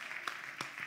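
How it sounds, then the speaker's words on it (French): An audience at a church preaching event on Haiti applauds, a faint, distant hiss of clapping with a few sharper claps standing out over one short second. "On applaudit."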